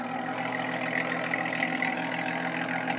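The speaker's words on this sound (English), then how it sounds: "Give you a little bit of an exhaust preview here." A loud, steady straight-piped exhaust rumble from a 1995 Dodge Intrepid at idle, deep and throaty with a constant droning tone, close up and unchanging throughout.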